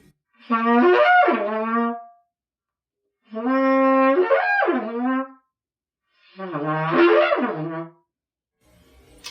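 A brass instrument plays three separate bursts, each slurring quickly up from a low note and back down, with short silences between them.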